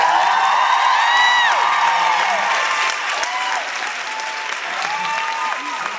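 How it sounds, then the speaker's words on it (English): Fans at a Supernatural convention panel in Vancouver applaud the show's crew, with loud, dense clapping and scattered cheers and whoops. Voices call out over it before it eases off slightly in the second half. "recognize them right now with some applause for our crew of Supernatural"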